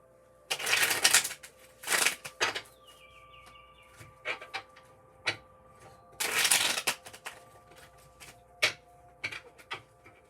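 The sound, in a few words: shuffling tarot cards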